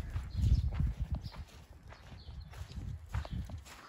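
Horses walk nearby on a trail ride in Swakopmund, their hooves landing in a loose, uneven clip-clop of soft thuds that stay faint and close, with no talk over them.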